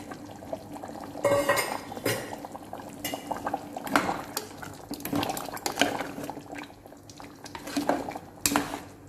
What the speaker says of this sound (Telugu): ఈ దోసకాయ ముక్కలు వేసుకుందాం